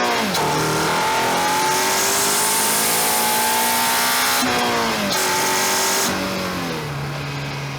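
A modified Honda Accord Euro with a K24 2.4-litre four-cylinder VTEC engine revs hard and loud, its pitch climbing through a long pull, dropping briefly at a gear change and rising again before easing off.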